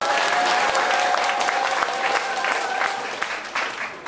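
An audience applauds for mayor Park Won-soon, a dense burst of clapping that tapers off over a few seconds, with a voice faintly underneath.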